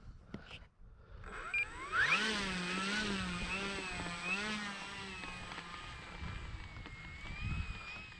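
An FMS P-40B RC model warbird, 1400mm span, taxiing on rough grass, its electric motor whining up and down in wavering pitch, close and steady, with a brief knock near the start and low rustling toward the end.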